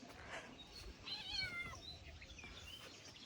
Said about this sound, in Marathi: मांजर बसली आहे.